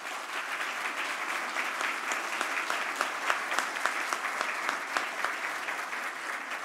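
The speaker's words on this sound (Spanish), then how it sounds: "Estos aplausos son de reconocimiento, pero sobre todo de gratitud, de aprecio y de cariño" A crowd at an academic and technology event held by notaries gives sustained, even applause, a dense wash of clapping with a few sharper individual claps standing out and no talking.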